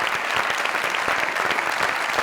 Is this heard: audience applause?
yes